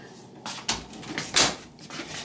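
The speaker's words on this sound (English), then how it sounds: "Let me close this door." A door is shut in a small room during vinyl plank floor installation, giving a few short knocks and a sharper thud near the end, close by and fairly quiet.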